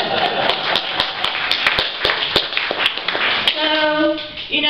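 Audience clapping breaks out during a speech at a Unitarian Universalist church, starting as scattered sharp individual claps that thicken into steady applause, with a voice murmuring underneath near the end.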